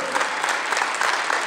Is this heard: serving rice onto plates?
no